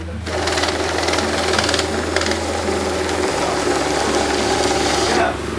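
A bill counter machine counts banknotes with a loud, steady mechanical whirring and a fast fluttering rattle that holds for about five seconds before cutting off.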